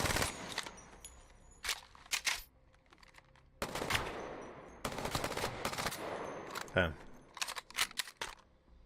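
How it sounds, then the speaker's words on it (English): SMG gunfire in Apex Legends, several short rapid-fire bursts of a few seconds each with quiet gaps between, crisp and moderately loud, test shots with the recoil left uncompensated. "if I just fire and don't move the mouse, all three weapons have massive recoil"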